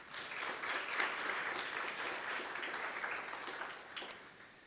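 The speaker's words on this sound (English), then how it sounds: "Let's please give all the award winners one more round of applause." An audience at a spring senior recognition ceremony gives award winners a round of applause, steady massed clapping at a fairly distant, soft level that tapers off near the end.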